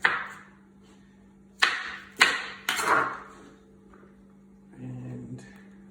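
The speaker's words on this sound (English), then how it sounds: "I'm just cutting the cauliflower now." A knife slices cauliflower into small shavings on a board, with a few sharp cutting strikes in quick succession, then quieter handling over a low background hum.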